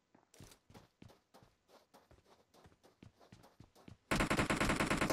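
Gunfire in the mobile game PUBG Mobile: soft, distant shots and footstep-like thuds in an irregular patter, ending in a sudden loud, close burst of rapid automatic fire.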